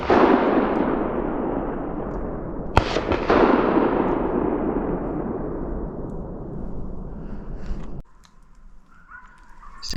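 Rifle shots fired at a roe deer during a hunt in the woods, heard as loud cracks followed by a long rolling echo that slowly fades away outdoors.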